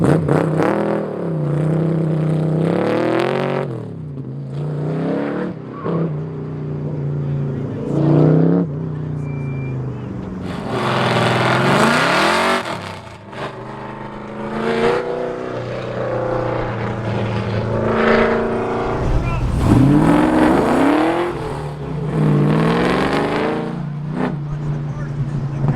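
A Ford SN95 Mustang racing an autocross course, its engine loudly revving up and down through repeated acceleration bursts and lifts, with a voice talking over parts of it.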